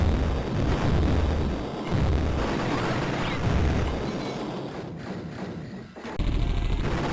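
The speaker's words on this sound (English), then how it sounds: "the sound effects are just great. The explosions, the machine guns, every step the walker makes." Explosions and machine-gun fire from the Amiga video game Walker, a dense, continuous rumble of booming blasts and rapid thuds with short dips, loud and steady throughout with no talking.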